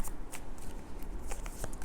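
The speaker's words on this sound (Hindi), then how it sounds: "मैं एक बार फिर से एक कार्ड और लेना चाहूँगी यहाँ पे" Tarot cards rustle and slide as one is drawn from the deck, a close, soft flurry of papery shuffling and light taps over about two seconds.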